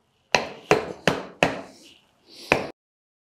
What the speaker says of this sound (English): this is where you just need a little mallet and then